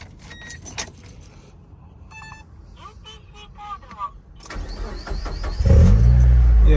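A 2000 Mazda Miata with a 6-speed and full exhaust: keys jangle near the start, then the starter cranks briefly and the engine catches into a loud, rumbling idle at the end.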